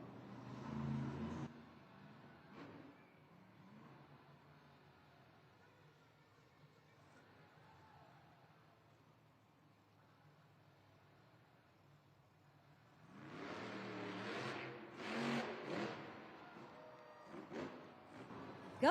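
Earthshaker monster truck roaring onto an arena track at a Monster Jam event, with a loud engine burst at the start, a lower rumble through the middle, then a surging, revving roar near the end amid crowd and arena noise.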